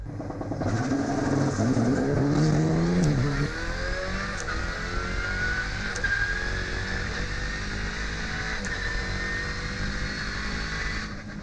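A rented Alpine rally car sets off on a shakedown run for the Critérium des Cévennes, its engine revving loud and close before settling into a steady, droning pull that carries on to the end.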